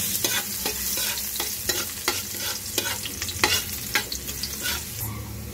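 Ginger and garlic sauté in a hot pan with a steady sizzle, broken by regular scraping strokes of a spatula stirring, close and continuous with no talking.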